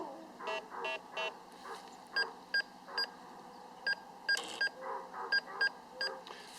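A Bounty Hunter Discovery 3300 metal detector beeping as its coil sweeps over a pull tab, a run of short, bright electronic tones repeating in quick uneven bursts, fairly faint, with a few soft voice sounds mixed in.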